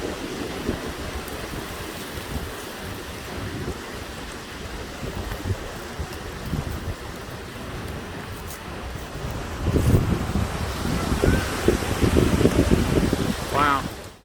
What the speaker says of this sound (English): When I said the wind was blowing.